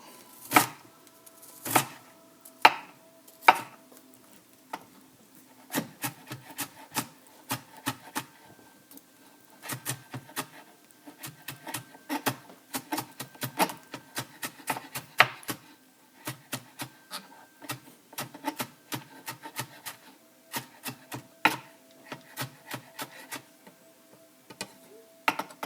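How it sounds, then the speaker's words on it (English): A knife chops onion on a cutting board, with many quick, sharp taps in irregular bursts, close and fairly quiet, and no talk. "Let's chop."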